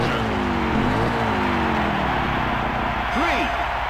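Jet ski engines rev and whine with rising and falling pitch in Wave Race 64 at Sunset Bay, set against a dense, steady wash of water and background game sound.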